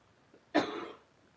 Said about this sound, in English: I have this lingering cough that is just amazing.